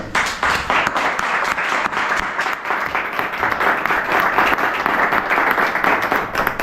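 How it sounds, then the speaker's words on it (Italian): Sustained applause from a gathered crowd honoring pediatric hospital staff, dense steady clapping filling the room without pause. "Tanto vorrei che facessimo un applauso a tutto il personale della pediatria."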